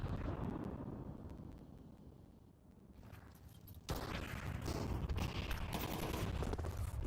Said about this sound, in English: Oh, flashbang.